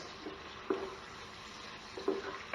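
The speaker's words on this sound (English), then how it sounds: "we want this to all saute down" Onions and garlic sauté in a pan with a low, steady sizzle and a couple of soft stirring knocks, heard close and quiet with no talk.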